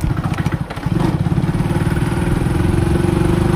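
A motorbike is ridden along a forest road, its engine running loud and steady with a close, throbbing putter that thickens after the first second.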